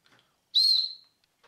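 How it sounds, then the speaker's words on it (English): A small, very light survival-kit whistle gives one bright, shrill blast of about half a second, close and loud, with faint handling noises before and after. "That looks like a very, very light whistle."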